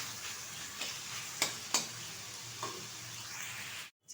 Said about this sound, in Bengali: চিকেন আর চিংড়ি মাছটা কিন্তু ভালোভাবে ভেজে তুলে নিয়েছি